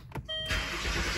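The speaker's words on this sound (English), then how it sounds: "get in your vehicle, start the thing up" A Land Rover engine cranks briefly and then catches, settling into a loud, steady idle close by.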